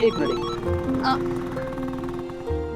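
An electronic phone ringtone trills over a steady low hum, as if heard inside a moving car, with a brief repeating melodic pattern.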